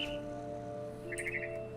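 Bird chirps from the game What Remains of Edith Finch, a short run of bright tweets rising over a steady low ambient drone, fairly faint and without any voices.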